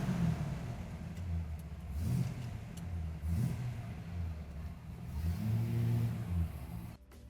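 A 1967 Chevy C/28 custom car pulls away, its engine revving in a few rising and falling surges, heard from inside or close by at moderate volume, with a brief clunk at the end.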